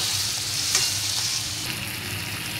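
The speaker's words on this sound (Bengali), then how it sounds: "আবারও একটু ভালো করে মশলার সঙ্গে ভেজে রাখা সবজিগুলো নাড়িয়ে চাড়িয়ে কষিয়ে নেব।" Fried vegetables are stirred with spices in a hot pan, making a continuous dense sizzle with a soft scraping of the spoon and no voices.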